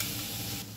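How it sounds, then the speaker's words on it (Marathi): Grated raw mango drops into a hot kadhai on the gas, giving a steady, close hiss of sizzling that eases slightly near the end, with no voices. "कढईमध्ये 1 वाटी कैरीचा किस टाकूया।"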